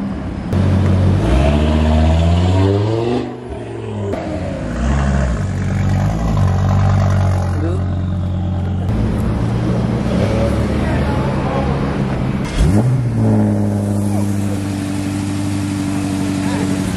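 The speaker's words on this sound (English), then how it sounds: "so the cars are gathering up." Car engines idling and revving as a car crew gathers, a steady loud motor drone with a few swelling revs, heard close up and continuous.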